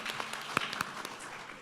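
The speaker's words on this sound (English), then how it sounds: "Oh, you clap" Brief, modest applause from a forum audience, a soft spread of clapping with a few sharper individual claps standing out, lasting under two seconds.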